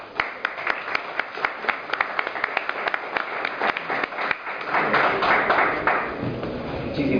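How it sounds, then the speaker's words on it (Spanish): Audience applause at a public forum, starting as scattered sharp claps and swelling into a dense, steady ovation that carries on to the end. "Démosle un fuerte aplauso, por favor"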